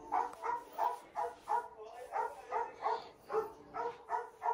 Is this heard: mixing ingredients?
no